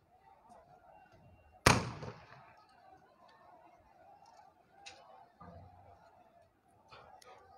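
A single sharp, loud gunshot-like bang from police firing, likely tear gas shells, at a farmers' protest in Hisar, standing out against crowd murmur and scattered voices, with fainter knocks afterward.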